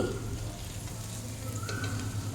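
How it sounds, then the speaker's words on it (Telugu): Onions fry over a medium flame, giving a soft, steady sizzle and crackle for a short stretch with no voice. "ఆనియన్స్ మీడియం ఫ్లేమ్ పెట్టి వేయించాలి ఇదిగో ఇలాగ ఎర్రగా"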